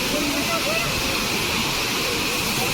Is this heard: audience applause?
no